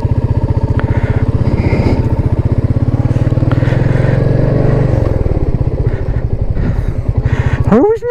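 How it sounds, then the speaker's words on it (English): Royal Enfield Meteor 350 single-cylinder motorcycle engine thumping steadily while riding, loud and close throughout, with a rev change and clunk near the end. "from that first to second, it's a definite two clunk"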